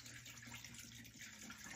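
Water sloshing as a screen-printing mesh coated with gel art ink is splashed into a water bath, a steady close wash of running, gushing liquid filling the short stretch with no talk.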